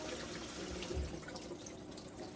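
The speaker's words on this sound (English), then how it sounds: "All of them need to wash to get that starch off the rice" Running water and gentle sloshing as rice is washed to rinse off the starch for an all-in-one meal, a soft continuous splashing under a low background hum, with no talking.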